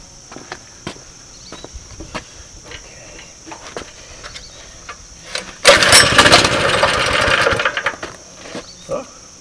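A seized single-cylinder engine on a 2005 Baja Warrior flea-market parts bike, dosed with ether, sputters and catches briefly in a loud, ragged burst of firing for a few seconds before dying back to quiet clicks.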